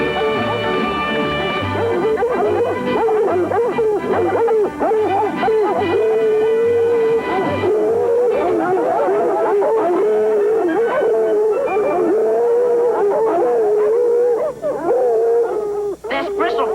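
Hound dog howls while chasing a fox through the countryside in the 1964 film Bristle Face. The long, wavering howls and baying carry on loud and steady, with occasional yips, under a continuous backing sound.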